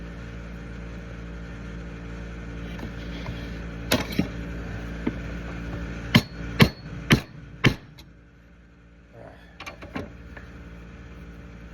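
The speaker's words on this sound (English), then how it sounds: "What I'm using is a center hole punch, right?" A hammer drives a center hole punch into pecan wood for a cheese slicer board. There is one sharp strike, then a quick run of four loud, ringing metallic blows over a steady low hum.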